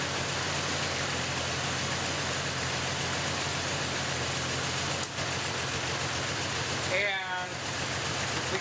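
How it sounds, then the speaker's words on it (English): A car engine idles steadily throughout a power balance test, the steady hum dipping slightly as a spark plug wire is pulled, with a brief crackle near the end. "we can hear the RPM drop a little bit when I disconnected it"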